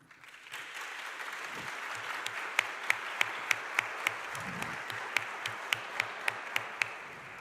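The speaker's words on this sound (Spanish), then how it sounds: "It's the fastest applause I've ever had." Conference audience at FIESA 2022 applauding a speaker being introduced, a dense wash of steady clapping from a large crowd, with a few sharp, louder individual claps standing out near the microphone toward the end.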